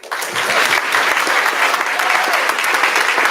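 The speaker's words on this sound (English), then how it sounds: "Let's give them another round of applause, everyone." Audience applause at a ribbon-cutting ceremony for a healthcare center, a steady, dense wash of clapping from a crowd that starts abruptly and holds at full strength throughout.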